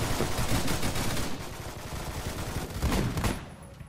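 Rapid automatic gunfire in the online shooter Phantom Forces, a dense continuous rattle of shots that swells and fades, loud and close, with no voices.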